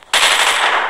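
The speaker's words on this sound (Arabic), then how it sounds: "رشاش" Machine gun fire in an Android mobile game, a loud, sudden burst that starts abruptly and sustains for under a second, with no talking.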